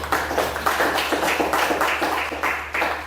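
A classroom of students clapping hands together in a quick, steady rhythmic pattern, loud and close, with bursts repeating evenly for about three seconds.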